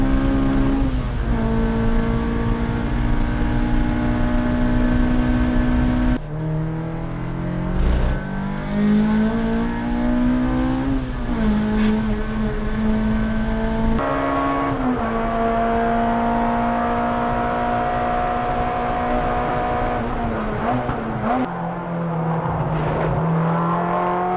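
A Honda S2000 race car engine drones continuously at high revs on the Circuit of the Americas, pitch rising and dropping sharply with each gear shift and braking, loud and close from onboard.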